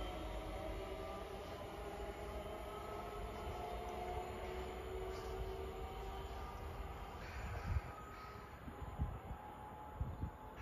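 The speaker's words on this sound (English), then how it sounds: "Passing through now is a Trans Pennine Express service from Newcastle to Edinburgh Waverley." A TransPennine Express passenger train on the Newcastle to Edinburgh service passes at Wallyford with a steady distant rumble and rolling wheel noise, plus a few louder clunks toward the end.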